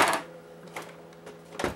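Plastic security tabs are popped out of a PS4 console casing, giving a few sharp, brief plastic snaps and clicks at close range with quiet pauses in between.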